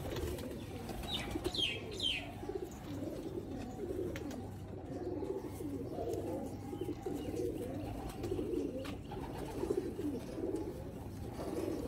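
Pure Sialkoti rooftop pigeons cooing in a steady, overlapping chorus of soft rolling coos, moderately near and continuous, with a few faint chirps above.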